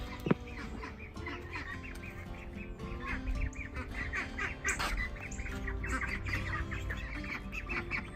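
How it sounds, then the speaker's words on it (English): Ducks on a small homestead farm quack and squabble in a restless, overlapping chorus that carries on steadily, with chickens and other birds chirping in the mix, moderately close and without talk. "You can hear the ducks going crazy."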